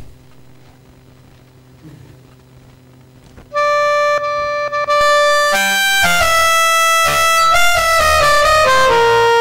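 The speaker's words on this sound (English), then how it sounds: "when you take a piece of music like this and generate MIDI using Lily pond, it sounds like this" Clarinet piece played back as MIDI generated by LilyPond notation software: a faint low hum at first, then a loud synthetic reed-like melody enters with clean sustained tones and stepped note changes, continuous and dry.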